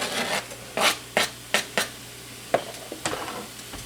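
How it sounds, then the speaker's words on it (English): Ground beef and chopped onion in a hot pan, a soft hiss under a series of scraping, stirring strokes and light pan knocks, close and fairly quiet with no voices. "hamburger here that I'm going to go ahead and put into my pan, which has also been heating up"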